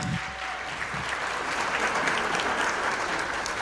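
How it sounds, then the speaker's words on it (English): An audience at a school district event applauds a student, a dense and sustained wash of hand claps from a large crowd, close and loud throughout. "Let's give her one more hand clap."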